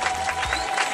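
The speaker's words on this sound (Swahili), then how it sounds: "Tuwapigie makofi zaidi." A short burst of crowd applause at a gathering for newly elected Fizi lawmakers: many hands clapping in a dense, steady patter that lasts about a second.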